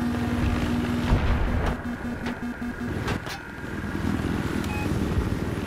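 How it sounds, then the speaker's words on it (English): Helicopter in the video game Battlefield 3, a steady droning rotor and engine roar held throughout, with sharp bursts of gunfire cracking over it partway through. "Oh, I'm in a chopper."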